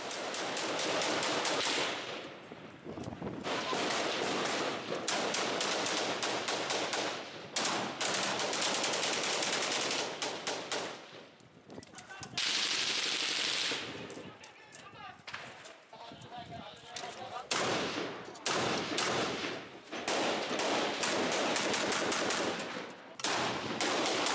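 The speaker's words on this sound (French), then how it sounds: "Nous finissons par rapidement nous retrouver coincés au milieu des rafales d'armes automatiques." Repeated bursts of automatic weapon fire in a combat zone, loud rapid volleys separated by brief pauses, with voices shouting between the bursts.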